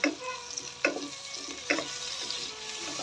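Prawns frying in a pan with salt and turmeric give a steady close sizzle, with a few sharp stirring scrapes and clatters recurring throughout.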